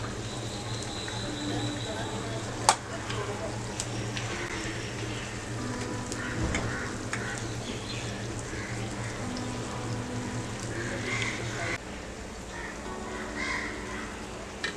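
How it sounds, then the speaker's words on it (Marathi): Spinach pakodas (palak bhaji) frying in hot oil on a slow-medium gas flame, a steady low bubbling sizzle that runs throughout with a brief sharp click near the start. "आपण स्लो ते मीडियम गॅसवर यांना फ्राय करून घेतलेलं आहे"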